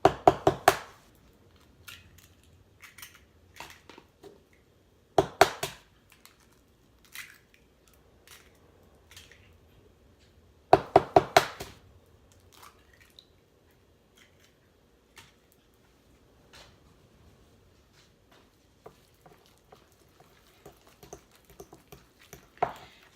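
Four large eggs being mixed by hand, heard as quick rhythmic bursts of clicking and clattering that stop and restart several times, fairly close and with no talking.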